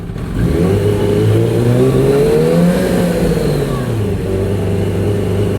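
Yamaha R1 motorcycle engine pulling away slowly in first gear, a steady close drone whose pitch climbs and then eases back, with no voices.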